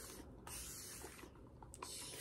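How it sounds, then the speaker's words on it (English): Hair spray hisses from an aerosol can in a few short, close bursts, with a faint steady hiss filling the gaps. "I'm just gonna spray it a little."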